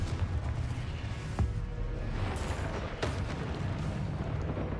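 Explosive spell impacts in a Harry Potter video game, a couple of sharp booms over a dense, rumbling roar of game effects, loud and close.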